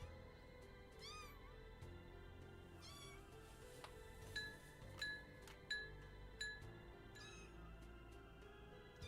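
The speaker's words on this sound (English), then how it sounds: "Meow." Cat meowing several times in repeated rising calls, loud and close, over a steady background hum with a few light clinks.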